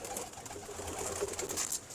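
A Ferozpuri cross pigeon coos softly close by, with low, throaty murmurs over faint background hiss.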